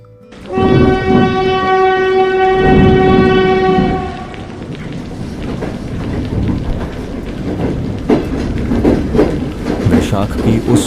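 A local train sounds a long, loud, steady horn blast as it passes, then rumbles and clatters along the rails with rhythmic clicking, near and prominent throughout.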